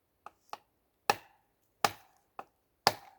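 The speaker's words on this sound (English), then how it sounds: "Let's see if we can make a cut all the way around this piece of wood here by chopping it." A Mora Bushcraft carbon steel knife chops into a piece of wood with six sharp, close knocks, alternating lighter taps and heavier thuds, spaced unevenly with quiet gaps between them.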